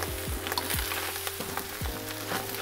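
Fried rice with scallions and bean sprouts sizzles hard in a hot pan, with the crackling frying broken by several rhythmic scrapes and tosses of stirring, close and loud with no talking.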